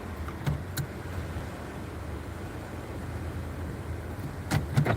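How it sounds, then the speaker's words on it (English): Car power windows roll down while the car is parked right alongside the water, giving a low, steady whir over faint outdoor noise, with a few soft clicks near the start and end. "Gonna roll the windows down"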